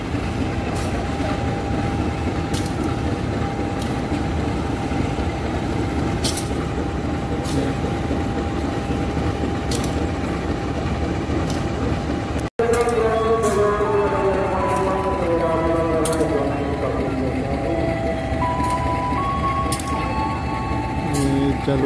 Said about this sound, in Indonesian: Ini jalur 2 juga kereta Pangrango.